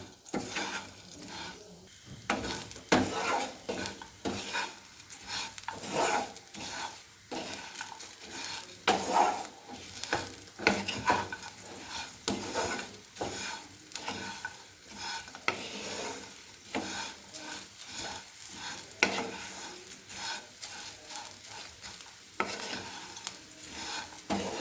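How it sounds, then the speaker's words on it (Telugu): Vermicelli frying in oil while being stirred, heard as a continuous close sizzle broken by frequent scraping and clinking of a spoon against the pan. "సేమియా మంచిగా ఫ్రై అయ్యేంత వరకు ఆయిల్లో ఇలా ఫ్రై చేస్తూ ఉందాం"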